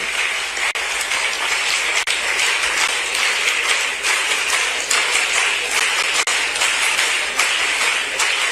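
An audience claps steadily to welcome Chief Minister Dr. Mohan Yadav to the stage at a World AIDS Day event, a dense, even round of applause that holds throughout with no speech.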